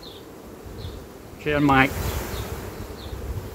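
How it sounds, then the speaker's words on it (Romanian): Honey bees from a colony in swarming fever buzz steadily at a hive, a continuous close drone with a person speaking briefly over it. "Iată, dacă ne uităm așa, e multă albină."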